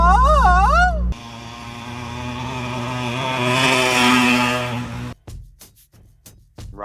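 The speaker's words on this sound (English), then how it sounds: "Right back into the mowing." A lawn mower runs steadily while mowing a lawn, its engine droning loud and close with a rising surge in the middle, followed by a few choppy bursts as the motor cuts in and out; a voice is heard over the opening.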